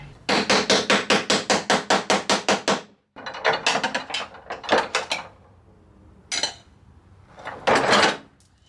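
Sharp, rapid hammer blows ring out in a steady run of about a dozen strikes on a Mazda Miata trunk lid as a carbon wing is knocked off. A pause follows, then looser clusters of hits and scraping knocks.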